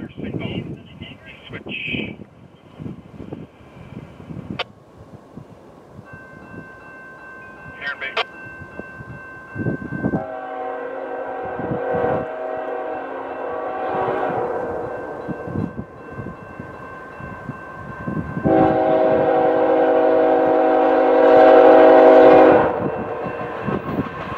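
A CPKC Railway freight train passes at Heron Bay beside Lake Superior, with rumbling wheels and clatter that builds and long, loud sustained horn blasts. A voice talks over the start.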